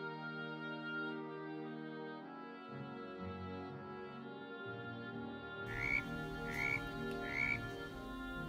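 A frog croaks in a short run of three or four distinct, fairly close calls, heard over soft background music.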